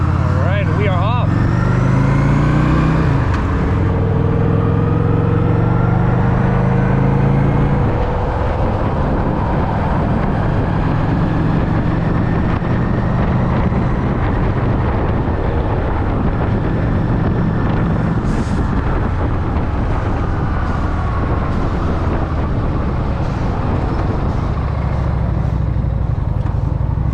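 A Honda motorcycle pulls away, its engine rising through a few revving climbs, then settling into a loud, steady rumble mixed with wind noise while a rider talks over it.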